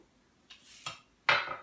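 Sour cream and lemon juice get mixed in a bowl for a cream cheese danish filling, heard as three short scraping clinks of a utensil against the bowl with faint pauses between them.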